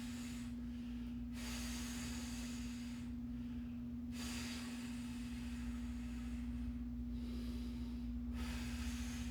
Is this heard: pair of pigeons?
no